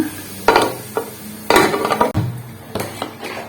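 A spoon stirs a masala rice mixture inside a pressure cooker, producing several loud metallic scrapes and clanks against the pot in uneven bursts, close up with no talking.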